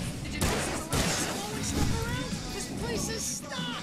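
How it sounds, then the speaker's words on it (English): Fireworks burst in the video game Alan Wake, with repeated bangs and crackling pops layered over game noise and excited talk throughout. "I can teleport the fireworks from here and help you out!"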